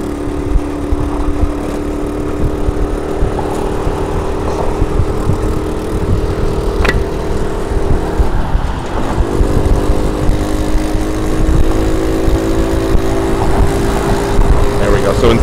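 A 2009 SYM Symba motorbike engine drones steadily while riding through the city in the evening, its pitch holding and then shifting briefly as the gears change, with a voice talking over it.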